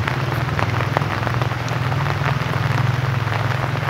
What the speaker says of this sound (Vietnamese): Nước nó chảy từ trên kia dậy xuống nè.